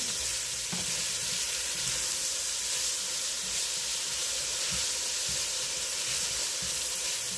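Beef stew ingredients sauté in a hot pot for a homemade Sunday dinner, giving a steady, close sizzling hiss with occasional soft stirring scrapes and no talking.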